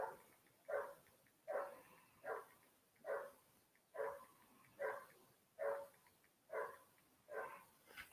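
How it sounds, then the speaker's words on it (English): A neighbour's dog barks steadily in the background, about nine evenly spaced barks at roughly one per second, fairly faint and distant with no talking over it. "Hope you hear my dog in the background. Well, not my dog, somebody else's damn dog."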